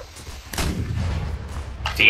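Artillery cannon firing another round at a range ending in a canyon: a heavy boom hits just after half a second and rumbles on, with a second loud blast closing out the brief stretch, voices murmuring faintly beneath.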